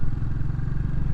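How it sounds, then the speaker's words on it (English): A Classic 350 motorcycle cruises along a road, its engine a steady low rumbling drone, loud and close, alone for a brief moment. "Many bikes out this morning enjoying a bit of spring dry riding."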